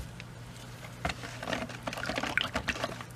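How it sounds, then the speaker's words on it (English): Lye solution pours into soap-making oils with a soft, close liquid splashing and trickling that builds over a few seconds before tapering off. "Now we're going to go ahead and add our lye solution"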